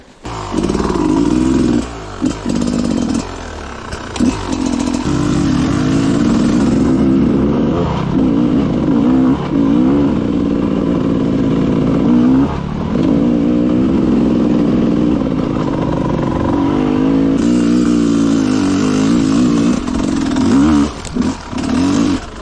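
Enduro motorcycle engine revving hard and continuously through a wheelie, loud and close, with throttle rising and falling across the run.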